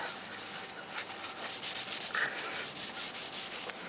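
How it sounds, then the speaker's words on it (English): A towel wipes excess finish off a wooden gun stock, a soft, steady series of rubbing strokes, quiet and close with no talking. "now what I'm going to do is I'm going to wipe off the excess with a terra towel"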